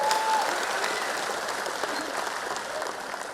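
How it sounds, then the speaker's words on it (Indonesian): A crowd at an Indonesian political campaign event applauds the Ganjar–Mahfud candidates, dense steady clapping that stays even and full throughout with a faint tone at the start. "Tepuk tangan dong untuk Mas Ganjar dan Prof Mahfud"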